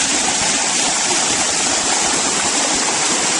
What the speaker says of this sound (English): And this is the water going down the waste gate.